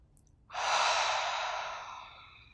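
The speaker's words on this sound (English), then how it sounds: "we'll take a cleansing breath in through the nose, out the mouth." A single deep cleansing breath out through the mouth during a beginner yoga flow, a soft, breathy exhale close to the mic that fades slowly in a quiet room.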